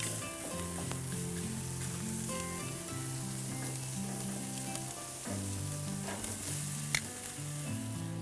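Club, T-bone and porterhouse steaks sizzle steadily on a gas grill, a dense continuous frying hiss with faint crackles, close and unbroken, with a low hum underneath.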